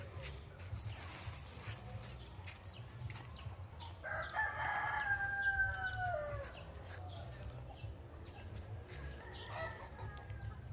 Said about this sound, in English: Chickens running around.